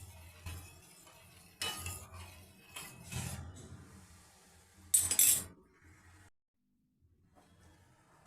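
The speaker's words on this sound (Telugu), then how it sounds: "ఇలా గిన్నెతో బాగా కలపాలండి." Spoon clinks and scrapes against a bowl while flax seeds are stirred into water, in bursts of rattling contact with a brief louder clatter, then fading to near silence.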